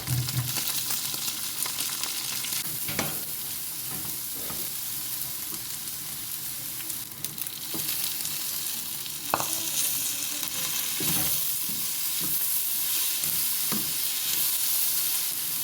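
Sardines fry with spring onions and tomatoes in a pan, a loud, continuous sizzle with occasional stirring scrapes and knocks throughout.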